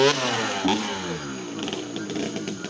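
A Kawasaki KX65 dirt bike engine revs hard and close, with a high buzzing two-stroke drone that rises and wavers through a few throttle blips over about three seconds.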